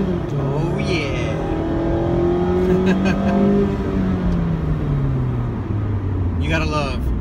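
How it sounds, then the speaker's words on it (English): A Mazda MX-5 Miata RF four-cylinder engine drones and revs steadily from inside the car, its pitch rising and falling smoothly, loud and continuous, with people talking over it. "You gotta love a high revving 4-cylinder."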